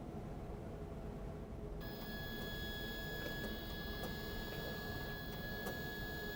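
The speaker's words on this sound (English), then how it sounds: "you will need to feed calibrate out some blank labels so the printer can look at the manual roll and tell where the labels start and stop" An i7500 industrial label printer feeds blank labels from a manual roll to calibrate, giving a steady mechanical whir with a constant high whine that starts about two seconds in, plus faint periodic ticks, continuous and close.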